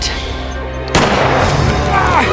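A sudden loud gunshot bursts out after a low rumbling background, leaving a sustained noisy wash that doesn't fade.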